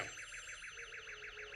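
Alarm going off, a quiet, fast-warbling electronic tone repeating in a steady pulsing pattern, heard faintly in the background with no speech.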